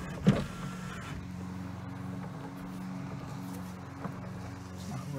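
A C4 Corvette's power window runs with its door panel removed while someone sits in the car. A steady, low motor hum continues throughout, with a brief knock near the start and a faint tick later.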